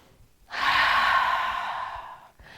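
A single long, deep breath during a yoga flow, an airy exhale that starts after a short pause, holds steady for well over a second, then fades. No talking.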